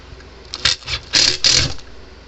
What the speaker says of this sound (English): we're going to go ahead and put some short little screws in there